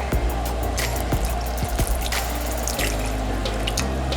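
About half a cup of water poured into a pot for plantain porridge, a steady close splashing pour with brief drips and a slight pitch change as the pot fills, alone without talk.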